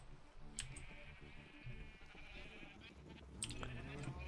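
Sheep bleat in the video game Minecraft, faint repeated bleats over a steady low game background with occasional soft clicks.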